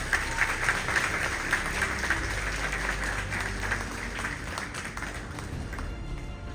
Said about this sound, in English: So let's give a round of applause for the past and present teachers here at the Children's Guild.